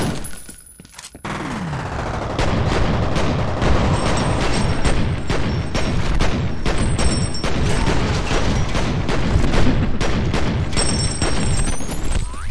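Dual pistols blaze away in the shooter game F.E.A.R., a loud, nearly continuous stream of rapid shots with booming impacts that starts after a brief quieter moment and carries on to the end.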